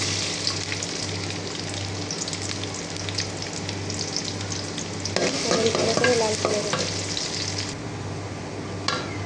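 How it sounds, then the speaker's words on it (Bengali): Chopped onion frying in oil in a wok, a steady close sizzle with stirring scrapes and spatters that swell midway, heard alone without talk. "পেঁয়াজ কুচি দিয়ে দিচ্ছি"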